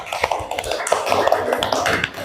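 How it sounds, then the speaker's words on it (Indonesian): Classroom applause for a student group, quick uneven claps and taps from a handful of children close by, short and lively. "Tepuk tangan buat kelompok 1."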